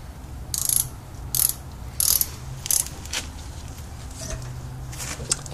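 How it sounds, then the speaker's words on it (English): A ratchet tightens brake caliper bolts on a Pontiac Grand Prix rear brake job, in four short buzzing clicking bursts with pauses between them, then fainter clicks, close and moderately loud. "Just put the bolts on and you tighten it down."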